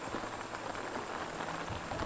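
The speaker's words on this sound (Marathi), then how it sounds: "पाऊस जोरदार पडतोय" Heavy rain pours down at night on a farm road, with water running along the road; a steady, dense, close hiss of downpour fills the whole stretch without pause or voices.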